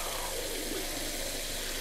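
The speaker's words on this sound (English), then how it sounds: "we're gonna go ahead and we're gonna turn on this water" Salon sink tap running water into a basin, a continuous, even hiss of flow that stays close and steady throughout with no pauses.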